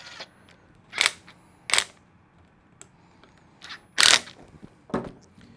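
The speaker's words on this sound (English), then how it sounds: "then I'll tighten both of them down together" Screws being tightened on an aluminum swing arm for a Losi Promoto-MX, fastened into plastic parts: a few sharp, close mechanical clicks and short scraping bursts separated by quiet pauses, with no talking.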